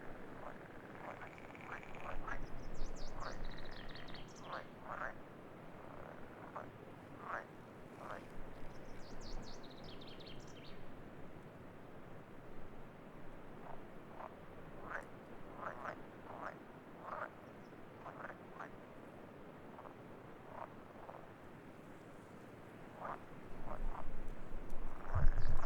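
Pond frogs croak repeatedly at the end of their mating season on an island nature reserve near Örskär lighthouse in Sweden. The croaks come as a steady run of moderate calls over a continuous outdoor background.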